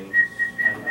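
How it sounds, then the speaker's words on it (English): A person whistles a few short, thin pitched notes close by in a quiet room, with small pauses between them. "I like whistling."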